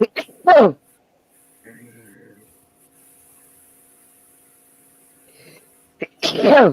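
Two loud, sharp human sneezes, one at the start and one at the end, separated by near silence and a brief spoken exclamation.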